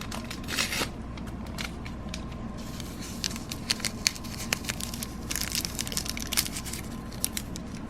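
Stevia sweetener packets being torn open, several quick papery rips and crinkles close by, scattered crisp bursts over a low steady room hum, with no talking.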